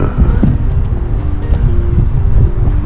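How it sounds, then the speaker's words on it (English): Heavy, continuous rumbling wind from a severe storm buffets the microphone, a dense low roar with gusty swells and no voices. "Getting pretty windy, man."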